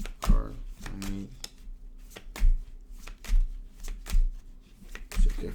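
Tarot cards are shuffled by hand in repeated crisp riffling bursts and taps, close and moderately quiet, with a brief voice near the start.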